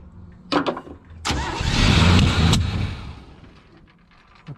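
A 1974 Chevy truck engine cranks with a few short bursts, then roars to life and swells before easing back, its sound fading into a quieter idle, close by with no talking.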